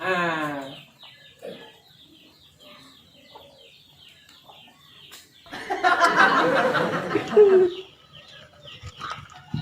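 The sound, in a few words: hen clucking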